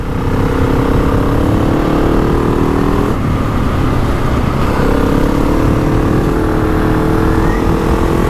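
A GasGas ES 700 motorcycle is being run in, its engine holding a loud, steady drone throughout with a slight easing midway and no speech over it.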